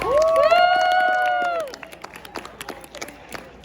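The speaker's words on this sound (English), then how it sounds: "Can we give Anthony a round of applause?" A crowd gives Anthony a round of applause and cheering, with scattered claps and a voice rising over the opening before the sound thins to sparse clapping.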